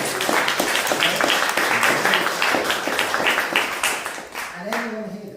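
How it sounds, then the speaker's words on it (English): Audience applause at a live comedy community meeting, a steady burst of clapping with voices talking over and under it, fading as a speaker's voice emerges near the end. "I just want to give Geoff a round of applause."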